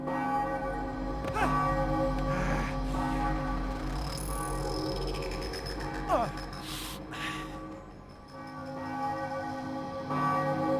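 A church bell rings in the PS2 game Spider-Man 3, deep sustained tolls humming and overlapping near and loud throughout, with scattered game sounds and brief vocal gasps mixed in.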